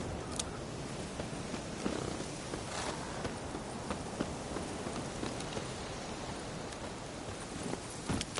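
Hoofbeats of Roach, Geralt's horse in The Witcher 3, running across a camp: a steady gallop of clip-clop footfalls with a few sharper hits, heard alone.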